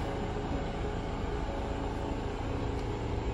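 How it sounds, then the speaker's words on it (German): A boat passes by in the jungle with a broad, steady engine rumble and wash that stays constant and faint in the background throughout, with no voices. "Ihr hört jetzt Hintergrundgeräusche von einem vorbeifahrenden Boot."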